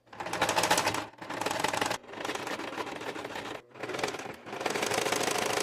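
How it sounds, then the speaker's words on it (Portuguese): A sewing machine stitching a seam with backstitching at the start and end, a loud rapid mechanical rattle in several long bursts separated by brief pauses. "Máquina já preparada para costurar, retrocesso no começo e no final da costura, e partiu costurar."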